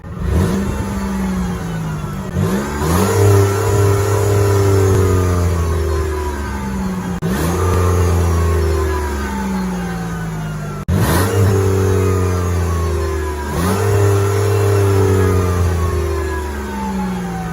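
A car engine revs hard as the accelerator is pushed, a loud, close roar rising in pitch in repeated surges over about seventeen seconds, with no talking.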